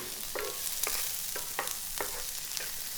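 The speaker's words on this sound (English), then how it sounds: "hear those onions sizzling there." Onions sizzling in oil in a pan, a steady bright frying hiss with soft stirring scrapes recurring every half second or so, heard close with no talking.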